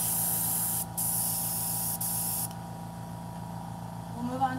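An airbrush sprays steadily at close range, a constant airy hiss with a few short breaks as the trigger is released, and a faint mechanical whine under it near the end, no voices.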